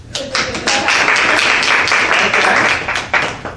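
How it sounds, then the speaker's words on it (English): An audience at a student improv comedy show breaks into a burst of applause, dense hand clapping close and loud, rising quickly and holding steady for a few seconds before tapering off. "by a round of applause"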